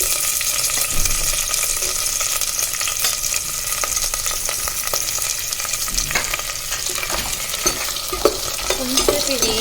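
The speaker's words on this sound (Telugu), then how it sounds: "ఈ పచ్చిమిర్చిలు కొంచెం వేగినాక మనం ఉల్లిపాయలు వేసుకోవాలి." Green chillies and onions for a potato curry fry in a pan with a loud, continuous sizzle and crackle, while a spoon stirs and scrapes throughout, close up.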